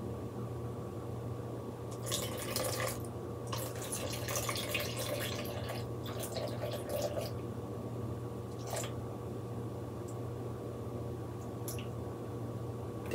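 Water pours in short bursts into a bowl on a kitchen scale, splashy trickling, then slows to occasional drips over a steady background hum; no one speaks.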